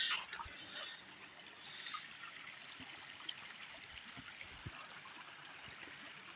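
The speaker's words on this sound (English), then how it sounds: "We got quite a little bit of water flowing there." A small stream in Maine flows steadily in early spring, a faint, continuous trickling and rushing of water with a few soft splashes, heard from a little distance without talk.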